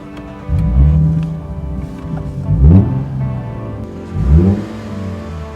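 A car engine with a high-throttle controller setting fired up and revved, three rising roars in a row that swell and fall back to a steady idle, close and loud.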